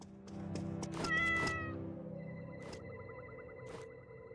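A kitten in Awaken: Astral Blade gives several close, clear meows over a soft, humming game backdrop, followed by faint chiming tones.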